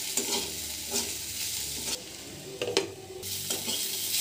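Carrot pieces sizzle and are stirred in a pan over a high gas flame, with a steady frying hiss and repeated scraping strokes of the spatula, close and clear.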